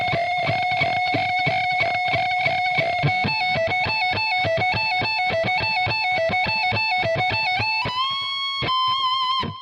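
Distorted electric guitar plays a fast, rapidly picked lead line from a guitar solo, loud and alone, with rhythmic repeated notes stepping between pitches before a final held bend.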